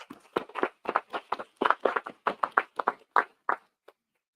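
Applause from an audience at a conference panel in León, Spain: a steady run of clap bursts lasting about four seconds, fairly close, thinning out before it stops.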